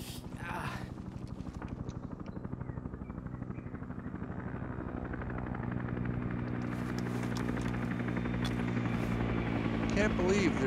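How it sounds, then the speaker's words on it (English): A helicopter in the Cam Loa Nam war game thrums with rapid, steady rotor chop that gradually grows louder and nearer, while people talk over it. "The helicopter."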